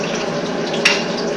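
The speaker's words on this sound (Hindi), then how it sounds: "गर्म हो गया था, मैंने प्याज डाल दिए।" Onions sizzle in hot ghee in a home kitchen, a steady, close hiss of frying that runs unbroken throughout with a brief sharper crackle partway through.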